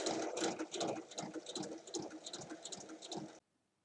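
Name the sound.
sewing machine stitching fabric along a line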